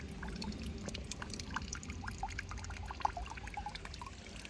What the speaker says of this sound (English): one little fountain right next to it that had water dripping out.